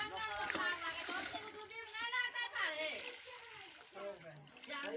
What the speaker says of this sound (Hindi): वजनदार कंबल है जो कि धो रही है